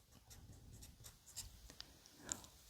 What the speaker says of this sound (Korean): 자, 이것을 글로 한번 써볼게요.